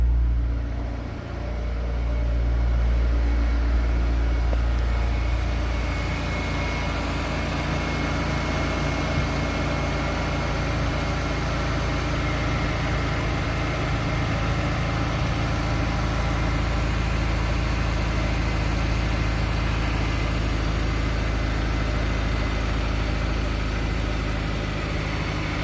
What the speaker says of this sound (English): I'm gonna let it idle back down.